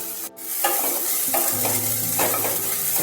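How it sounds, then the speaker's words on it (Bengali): Onion fries in a little oil with a continuous close sizzle, broken by brief clinks and scrapes of stirring, no voices present. "অল্প তেলেই কিন্তু পেঁয়াজটাকে একটু ভাজা ভাজা করতে হবে"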